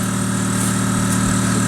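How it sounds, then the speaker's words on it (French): A motorized sprayer runs steadily while pumping air into an Asian hornet nest, giving a continuous loud engine-like drone with a constant low hum and no pauses or talk. "mon mari va injecter d'abord de l'air et puis du produit"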